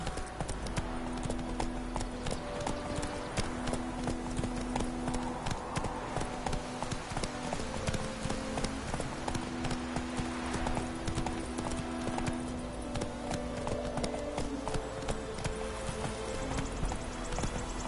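Galloping horse hooves in The Witcher 3 video game, a rapid, steady clip-clop rhythm throughout, fairly loud and close, with tonal game music underneath.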